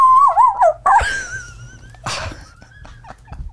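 A human voice imitating a Shih Tzu dog barking: several high, yipping and whining bark sounds with wavering pitch, loud and close, followed by a quieter stretch with a brief noisy burst.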